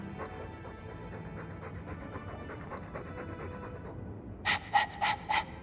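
Dog panting and whimpering in Dragon Age 2: a steady breathy panting runs throughout under ambient game sound, then four short, louder whimpering yelps close the clip.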